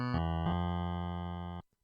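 Korg DW-8000 synthesizer playing its digital bass waveform: a steady, bright, buzzy tone rich in harmonics, with a couple of quick note changes early on, then held for about a second and a half before cutting off cleanly.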